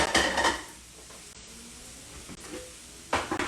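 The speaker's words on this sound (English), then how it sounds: "I have my stir-fry pan." A stir-fry pan is handled on a stovetop beside sweating, sautéing peppers. Metallic clanks and scrapes come at the start and the end, with a faint sizzle in between.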